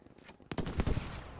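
Explosives blow up a snowman in the Battlefield V video game: after a brief quiet lead-in, a sudden loud blast erupts and rolls on with rumbling, crackling debris for about a second.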